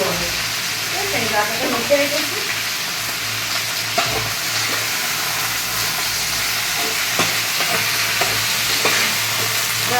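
Potatoes fry in a pan in a home kitchen, a loud, continuous sizzle with steamy hiss and occasional stirring scrapes running steadily throughout.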